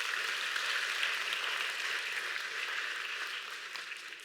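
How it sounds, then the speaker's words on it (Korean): An audience at a Sebasi talk in Korea applauds, a steady wash of clapping held at an even level that tapers slightly toward the end. "박수 한번 주세요"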